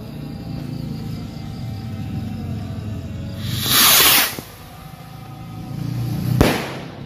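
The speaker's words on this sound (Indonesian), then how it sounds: "selanjutnya kita nyalain mercon luncur yang jumbo" A jumbo rocket firecracker whooshes up with a rising hiss that swells for about a second, followed later by a sharp crack, over steady background noise.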